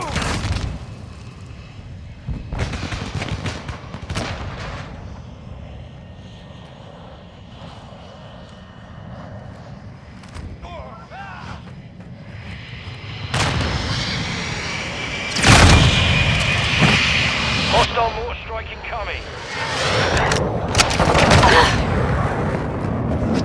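Gunfire and explosions in Call of Duty: Modern Warfare II, loud bursts and booms erupting in waves over a droning aircraft engine, with a short shouted voice line in the mix.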